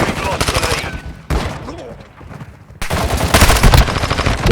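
Rapid automatic gunfire from the mobile shooter Warzone Mobile during a 6v6 multiplayer match on the Scrapyard map, loud and close in dense bursts with a brief quieter gap between them.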